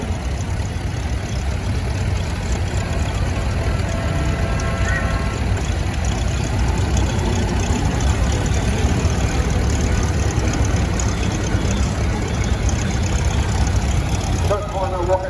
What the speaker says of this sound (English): A 6-litre Cummins, so 6 BTA Cummins engine